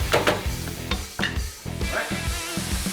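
Sloppy joe mixture stirred in a sizzling pan, with bursts of scraping and clattering strokes over a steady hiss of frying, close and fairly loud.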